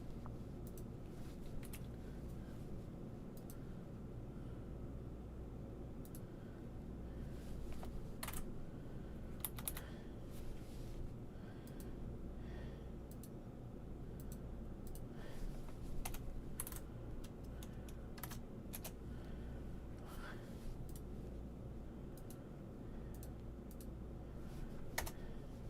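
Steady typing on a computer keyboard with repeated Enter key presses, a continuous run of close, light clicks and taps over a low room hum, with no talk.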